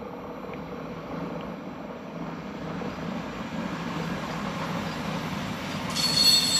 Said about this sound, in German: Boah, ist der Zug laut, meine Güte.